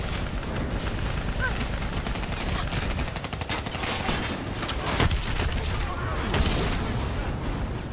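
Call of Duty Black Ops 3 battle with dense gunfire, booming blasts and an APC being destroyed, loud and continuous, with voices talking over it.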